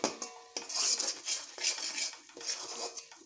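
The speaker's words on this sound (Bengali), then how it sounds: "পুরো মশলাটিকে একটু ভালোভাবে এইভাবে কষিয়ে নেব" Turmeric and cumin masala being stirred and fried in a pan for a pointed gourd stuffing, with repeated metal spoon scrapes and clinks over a soft sizzle, close up and with no talk.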